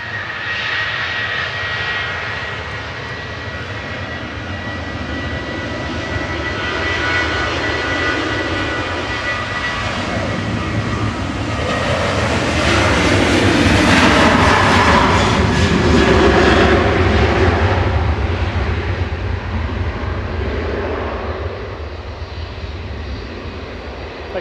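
An aircraft passes at Manchester Airport, its engine roar building gradually to a loud peak around the middle and then slowly fading, a broad continuous drone without talk.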